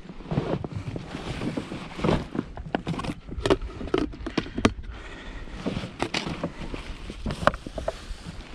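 Wind buffeting a fishing boat on open water during summer pike and perch fishing, a steady rough rush with gusty crackles and scattered knocks and rattles throughout, close and moderately loud, with no talk.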